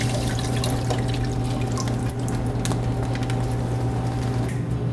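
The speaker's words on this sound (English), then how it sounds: "we're gonna put them to the sink, run the water," Tap water runs steadily into a restaurant kitchen sink over freshly boiled hot lobsters, a loud continuous splashing rush with a few brief clinks.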